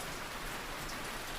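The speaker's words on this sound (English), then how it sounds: "Rain softens further." Soft, steady rain pattering on surfaces, a dense even hiss with no pauses and no voices.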